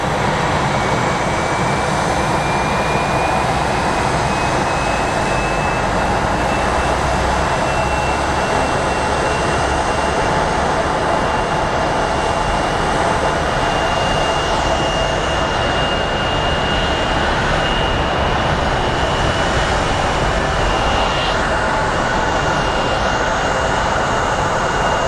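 Steady, loud jet engine roar at Phoenix Sky Harbor International Airport, a broad continuous rumble and hiss with a faint rising whine, unbroken for the whole stretch with no talking.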